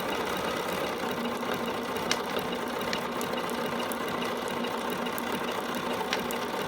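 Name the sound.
dual feed sewing machine stitching denim jeans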